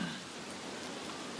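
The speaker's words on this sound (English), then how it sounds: "more rain" Steady hiss of rainfall in a video game, an even wash of drops with no other sounds.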